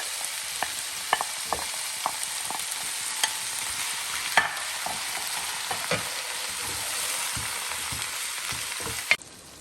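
Tomatoes frying in a pan on an African home stove, a steady sizzle with a spoon scraping and knocking against the pan at intervals, close and moderately loud, with no talk.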